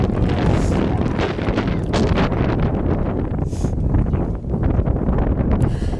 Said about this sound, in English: That wind has picked up